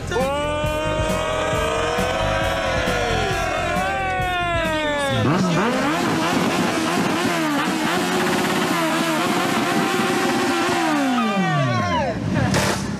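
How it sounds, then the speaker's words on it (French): A car engine revs hard through its gears, pitch climbing, dropping at each shift and climbing again, loud and close, with voices talking over it. "Oh la boîte de vitesse"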